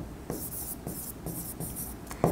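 Pen scratching figures onto paper, a few short strokes in quick bursts with brief pauses and a louder tap near the end, close and quiet with no voices.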